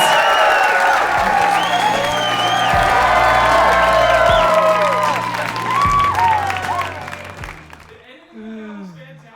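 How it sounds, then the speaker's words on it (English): A comedy show audience cheers, whoops and claps loudly and steadily after a freestyle rap bit, the roar holding for several seconds before fading, with voices talking over the tail end. "I promise people were cheering"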